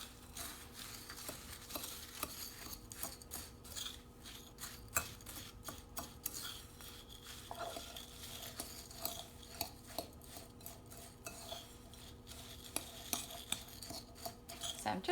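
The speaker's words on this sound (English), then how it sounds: "we're going to go ahead and incorporate that melted butter in with our crumbs and our sugar" Melted butter is stirred into graham cracker crumbs and sugar in a bowl, a continuous soft scraping and rustling with frequent small clicks of the utensil, close and quiet with no talking.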